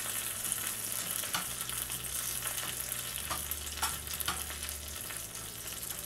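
Curry leaves fry in oil for a winter melon avial, a soft continuous sizzle and crackle with faint scattered pops, and no voices.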